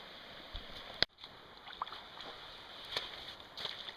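An aluminum canoe moves down a rocky creek with rapids, with faint water wash and occasional sharp knocks and scrapes of the hull, one loud clunk near the start, no talking.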